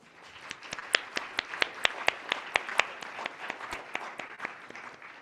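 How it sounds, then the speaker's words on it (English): Applause from a conference audience at a university security conference: a steady wash of clapping with a few sharp, distinct nearby claps standing out, moderately loud and sustained throughout. "Please join me in providing our speakers another round of applause"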